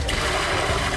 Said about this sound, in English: Next, add lentils, then water,